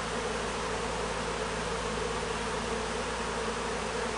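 Honeybees buzz around a hive with a queen held between excluders, a steady, even drone of many insects with no talk.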